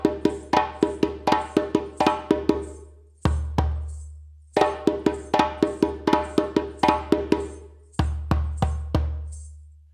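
Djembe played alone, a rhythmic response phrase of four deep bass notes followed by a soft foot tap, repeated in crisp, loud, evenly spaced strokes with short pauses between phrases.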